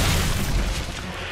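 A Boomshot blast in a Gears of War style multiplayer shooter, a loud, heavy low boom that rolls on with a dense rumbling tail for over a second.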